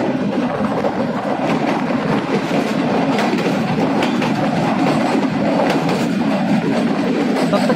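The Jaffar Express, a Pakistan Railways passenger train, runs through the tunnels of Mushkaf in Balochistan with a steady, loud, close rumble and a rapid clatter of wheels on rail that never lets up.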